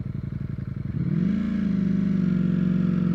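A Ducati Streetfighter V4S motorcycle rolls slowly with the front brake held on, its engine first throbbing in a loud rhythmic idle pulse and then rising into a steady, louder drone.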